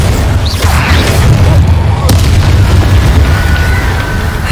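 In the video game Hogwarts Legacy, a Bombarda spell explosion rumbles as a loud, sustained deep boom amid constant combat noise, with a sharper crack partway through and a brief voice in the mix.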